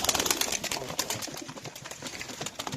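Quick, broadband flurries of tumbler pigeons (oyun kuşları) fill the whole stretch, like close, busy wingbeats and scuffling with a few soft coos mixed in, fairly loud and steady, with no voices.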